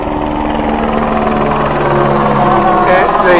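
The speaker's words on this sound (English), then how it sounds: "Oh, here comes a helicopter hanging over." A helicopter hovers over a beach, its loud, steady rotor drone filling the whole stretch close by, with no talk.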